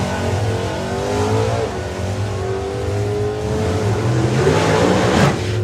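Drag racing car engines at Santa Pod Raceway during the FIA European Finals eliminations, a loud sustained roar with rising and falling pitch as cars launch, close and continuous.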